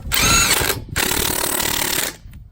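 A loud impact wrench, rated about 350 foot-pounds, whirs and rattles in two sustained bursts separated by a brief pause, hammering lug nuts onto a wheel with a buzzy texture.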